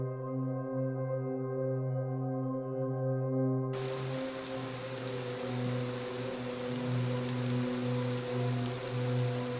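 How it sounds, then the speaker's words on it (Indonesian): Rain falling outside, a steady soft hiss of drops that begins abruptly partway through after a sustained low tonal hum and continues evenly at moderate volume to the end. "Hujan mulai turun lagi di luar."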